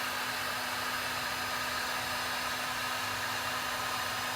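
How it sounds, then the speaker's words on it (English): A heat gun blows hot air steadily onto old paint, giving a constant, close, airy whoosh with a faint electric hum, unbroken throughout. "I just put the heat gun right here on the paint"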